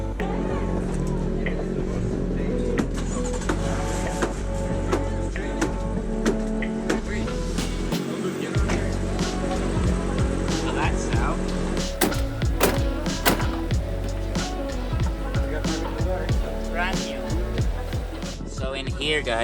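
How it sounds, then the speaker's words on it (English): Busy race track with many drift cars such as Nissan S15s, S14s, Mazda MX-5s and VW Golfs, a dense, constant roar of engines and revving with sharp bangs and clatter, loud and close throughout. "It's a bit noisy at the track today. There's a lot of cars here."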